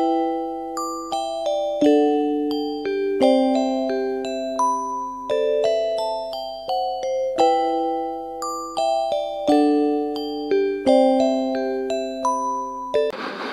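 A bell on the cold North Sea coast at Carolinensiel is struck by hand again and again, ringing loud and close with bright overlapping tones that decay between irregular strikes.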